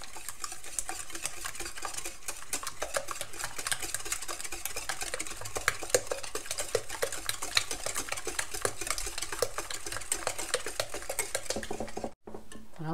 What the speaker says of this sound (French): on va mélanger jusqu'à ce que le mélange soit blanc